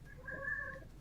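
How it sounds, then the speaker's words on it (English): A house cat gives a single short meow, fairly quiet and close, set against a low background hum. "That's my cat."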